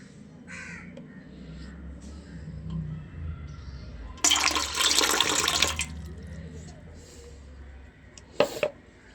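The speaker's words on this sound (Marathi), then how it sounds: "आता मी टाकते थोडंसं पाणी" Water pours in a steady splashing rush for about a second and a half, poured for a pet turtle, set against crows cawing and faint background murmur.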